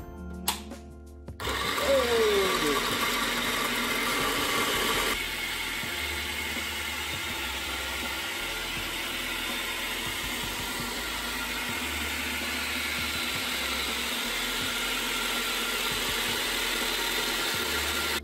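A kitchen food processor whirs steadily while chicken curry is being made, a continuous, fairly quiet motor drone that holds for the whole stretch after a brief startup, with no talking.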